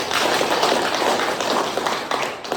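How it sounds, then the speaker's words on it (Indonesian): Participants clapping their hands in a teaching session, a brief steady burst of group applause, fairly close, with no talk over it. "Tepuk tangan dulu untuk kita semua."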